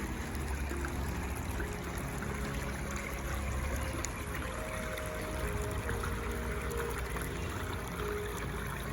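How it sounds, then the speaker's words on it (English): Water runs steadily over sandstone in a pondless garden waterfall in Yorkshire, a continuous close trickling and splashing that holds an even level throughout with no voices. "Really pleased with how this waterfall's run."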